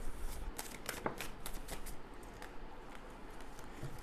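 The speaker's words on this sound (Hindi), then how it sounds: "कुछ और कार्ड्स लेंगे हम।" Tarot cards are shuffled with a run of quick, crisp riffling flutters and soft slaps, close and fairly quiet, with no one talking.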